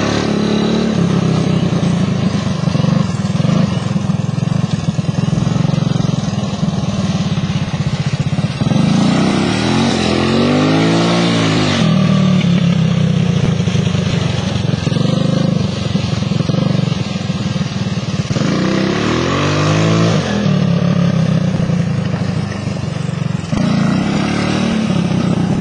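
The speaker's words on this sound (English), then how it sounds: "This time on his first ATC ride." An ATC three-wheeler engine runs continuously and loudly nearby, a steady buzzing drone with two rising and falling revs as the rider throttles up and eases off.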